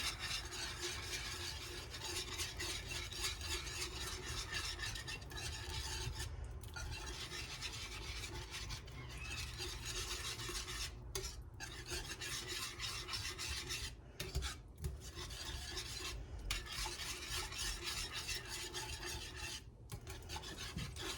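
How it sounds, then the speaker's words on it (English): Sour cream is whisked into a sauce in a pot. A continuous, close, raspy scraping of the whisk runs steadily throughout, broken by a few brief pauses, with no talking. "I'm just going to whisk this sour cream into the sauce"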